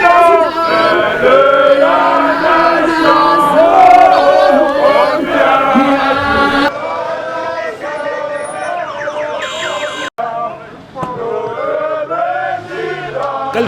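At a campaign rally, a dense, loud crowd greets an arriving politician with cheering and voices. Shrill whistles or horns cut through the noise, and the din continues without a break.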